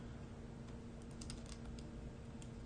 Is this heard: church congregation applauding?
no